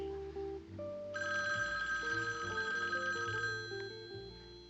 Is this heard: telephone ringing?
yes